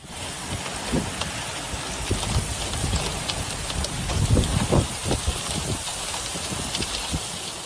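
Heavy rain falls in Saudi Arabia, a dense steady patter with heavier drops and thuds striking a surface, loud and continuous with a few louder bursts.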